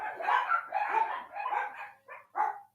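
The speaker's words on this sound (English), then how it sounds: "That's a dog." A dog barks in a series of five quick, close barks, the last two short and clipped, with no other sound around them.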